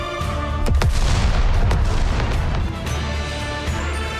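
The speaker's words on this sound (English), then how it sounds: "Guillotine swings her sword, sending an energy wave and surging past Maiden's ear and causing a massive explosion behind her." A sword swing in the video game GODDESS OF VICTORY: NIKKE sends out an energy wave that sets off a massive explosion, heard as a loud booming blast with a rumbling burst over game music and effects.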